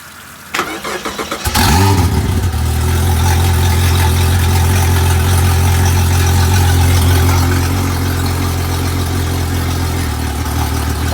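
A Honda 250HP outboard boat engine cranks briefly, catches and settles into a loud, steady close idle that runs for several seconds.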